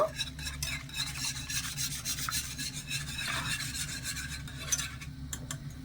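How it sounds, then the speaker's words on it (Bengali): Powdered milk being stirred and mixed into pitha dough, giving a quiet, continuous rubbing and scraping close by with no voices. "এবারে দুধটা দিয়ে দেব ভালো করে মিশিয়ে নেব"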